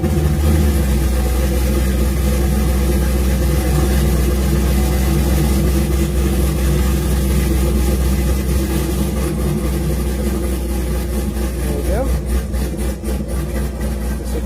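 A warm car engine runs steadily and loud throughout, a continuous idle with a slight change in tone near the end, with no voices.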